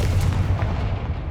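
A Confringo spell blasts in Hogwarts Legacy, a short burst of booming, gunfire-like impacts over low rumble, loud and close, with no voices.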